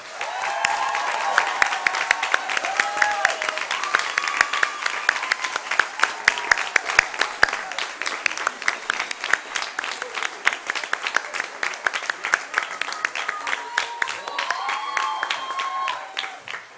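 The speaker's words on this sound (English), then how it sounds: "I would like to ask you one more round of applause for the students" Audience applause for students at a live-streamed school event, a long steady wash of many clapping hands lasting well over fifteen seconds, with voices and cheers faintly audible underneath.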